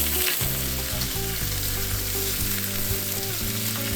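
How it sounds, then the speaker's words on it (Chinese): Pork belly and potato slices stir-fried in a wok, with loud continuous oil sizzling close up and repeated scraping and clanking of the spatula against the pan, no voices. "土豆片沥干水分，倒入锅中一起翻炒"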